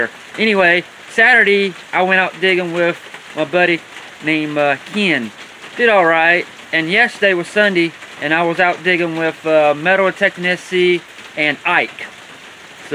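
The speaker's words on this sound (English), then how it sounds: "It's raining really good, so I'm under my lean-to shed." Heavy rain drums on a lean-to shed roof as a steady wash under someone talking close and loud for the whole stretch.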